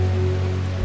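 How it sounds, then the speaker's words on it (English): Steady, loud rain in the video game Strange Horticulture, a continuous wash of patter over a low ambient drone, with no voices. "Also, the rain is loud."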